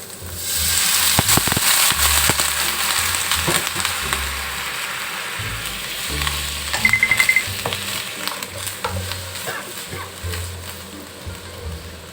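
Water is splashed into a hot pan of Thai holy basil salted beef stir-fry, setting off loud bursts of crackling and sizzling that settle into a steady frying hiss, with brief speech.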